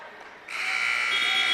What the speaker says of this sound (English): And the buzzer sounds once again as the Jaxon Smith lead